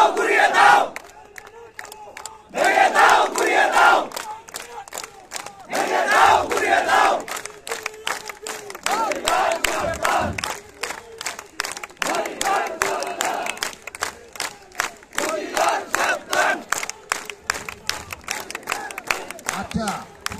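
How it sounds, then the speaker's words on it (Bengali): A street protest crowd of electricity-board workers chants slogans in unison without amplification, loud rhythmic bursts of shouted voices repeating every couple of seconds, with the call-and-response pattern steady throughout. "খালি গলায় স্লোগান দিচ্ছে তো বোঝা যাচ্ছে না"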